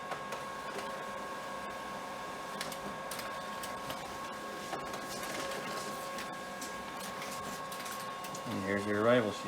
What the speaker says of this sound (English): print off a race sheet or an arrival sheet